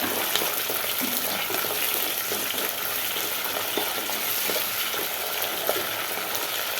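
Ginger, garlic, shallots and green chili fry in coconut oil, producing a dense, even crackling sizzle that holds steady throughout, close and loud with faint stirring and no talk.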